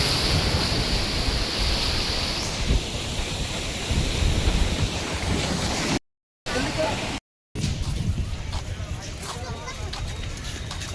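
Sea waves wash in on Pondicherry beach in a continuous broad roar with wind buffeting the microphone, while people talk nearby over the surf.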